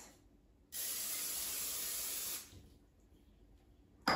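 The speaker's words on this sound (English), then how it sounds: "I'm going to spray a pan with a non-stick cooking spray" A steady aerosol spray of non-stick cooking spray hisses into a baking pan for nearly two seconds, close by, then stops, leaving quiet room tone.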